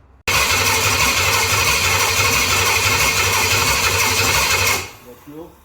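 A restored 1969 Pontiac GTO engine cranks and fires on its first start, roaring steadily and loudly up close with a throbbing idle rhythm for about four and a half seconds before cutting off, followed by faint sounds.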